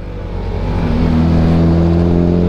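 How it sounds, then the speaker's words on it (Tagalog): A Toyota Corolla speeds along a mountain road from Malico, Pangasinan, toward Santa Fe, Nueva Vizcaya. Its revving engine makes a loud, close, steady drone that swells during the first second and then holds. No one speaks. "O merong humaharurot na ano ah. Corolla."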